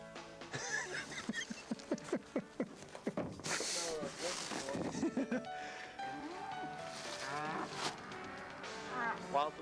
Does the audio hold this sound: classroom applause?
no